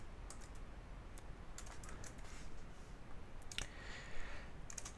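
Someone types on a computer keyboard in a quiet room, a quick run of soft, close key clicks with a few slightly louder taps.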